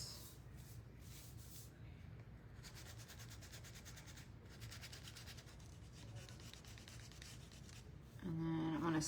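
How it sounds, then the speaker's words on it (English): Quiet, steady rhythmic scraping as sandpaper works over a small DIY holiday wiggle magnet craft, the strokes continuing with brief pauses throughout. "So let's go ahead and sand. Let's just sand away."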